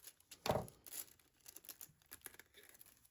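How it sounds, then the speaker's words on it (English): Excess transfer foil is cut away along the side of a snakeskin-patterned boot, giving close, soft crinkling and tearing rustles in a few short bursts, the first one loudest, with no talking. "Now I'm cutting away the excess down this side"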